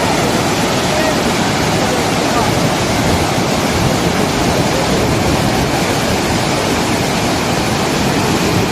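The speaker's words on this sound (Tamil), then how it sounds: "தண்ணி காற்றாட்டு வெள்ளம் போல் புரண்டு ஓடுது." Loud, continuous rushing water roars without a break, a dense wash of sound from the powerful Courtallam waterfall close by.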